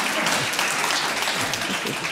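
Audience applause fills a panel discussion hall, a dense, steady wash of many hands clapping at once, continuous and fairly loud throughout.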